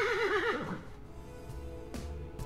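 Horse whinny from the game Yuppie Psycho, a loud wavering neigh over the first second that fades out, leaving faint ambient game sounds and a few soft clicks.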